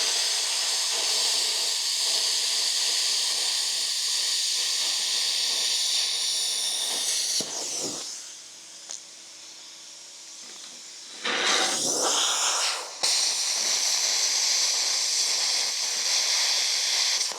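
A cheap 75 amp plasma cutter slicing through metal gives a loud, steady hiss, breaking off into near silence for a few seconds before the harsh hissing resumes.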